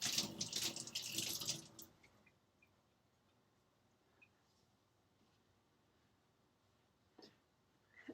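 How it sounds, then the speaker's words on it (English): Hands are washed under a running kitchen sink tap for about two seconds of steady splashing water, then the flow stops, leaving near silence with a few faint clinks. "just wanted to wash my hands real quick since I just touched the egg."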